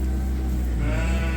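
Sheep bleat over steady low rumbling wind noise on a snowy, blizzardy farm day, a fairly close, wavering call rising near the end of the clip.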